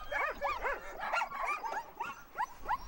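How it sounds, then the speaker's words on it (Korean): Greenland sled dog puppies kept in a pen yip, whimper and bark in a rapid, overlapping chorus of high-pitched cries, close and continuous throughout. "강아지들은 따로 우리 안에 넣어서 키웁니다."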